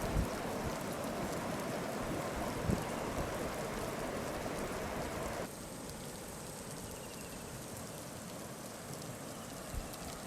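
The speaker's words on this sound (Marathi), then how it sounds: "रायगडमध्ये जोरदार पाऊस झाला आणि यामुळे इथल्या नद्यांच्या पाणी पातळीत वाढ झाली" Heavy monsoon rain pours steadily in Raigad, with rivers such as the Amba and Kundalika overflowing their banks; a dense, even hiss of rainfall and rushing water runs throughout, dropping slightly in level midway, with no talk.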